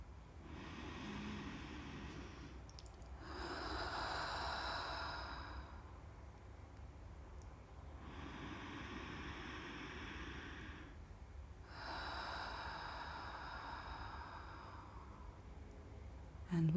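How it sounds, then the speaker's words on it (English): Slow, deep breathing before mantra meditation, roughly four quiet inhale-and-exhale cycles in an even rhythm, close but faint, with no speech. "Let's begin with a few deep breaths."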